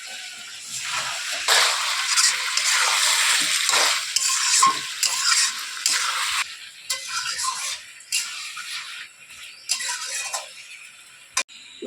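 Mutton sizzles loudly in a pan while being stirred, with bursts of frying hiss and scraping strokes that drop to quieter, intermittent scrapes and clinks in the second half.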